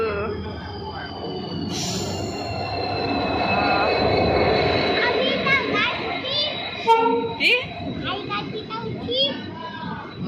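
A train rumbles into Barpeta Road station with a steady high metallic whine over it, while a crowd of children and adults chatter noisily close by.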